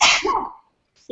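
A single abrupt, forceful sneeze up close, bursting out and trailing off into silence, with a faint noise just at the end.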